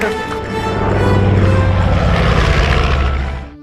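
A propeller aircraft roars past in a film scene from The Aviator, engines loud and close, swelling in and then fading away at the end.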